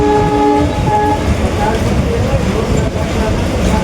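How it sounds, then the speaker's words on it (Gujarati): A goods train passing close by: a loud horn blast at the start, then continuous rumbling and clattering of freight wagons throughout, with voices faintly underneath. "આ તો ભારખાનું આવ્યું।"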